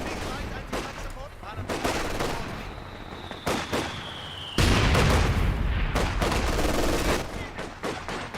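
Rapid machine gun bursts and scattered gunfire ring out in the World War II strategy game Company of Heroes 2, with sharp repeated volleys, a few heavier booms and a loud surge partway through.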